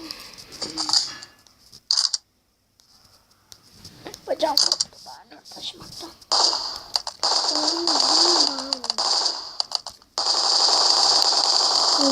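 Rapid gunfire from weapons in the Nintendo DS game Contra 4, with bursts of machine-gun-like shots and electronic game effects, loud and dense in stretches with brief quiet gaps in between.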